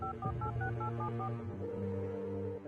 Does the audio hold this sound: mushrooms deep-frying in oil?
no